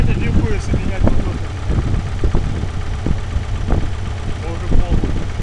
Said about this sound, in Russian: Работает. Стучит.